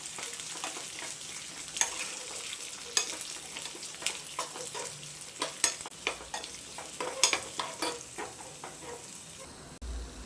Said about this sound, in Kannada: ಇದು ಸ್ವಲ್ಪ ಆಯಿಲಲ್ಲಿ ಫ್ರೈ ಆಗಬೇಕು ಚೆನ್ನಾಗಿ.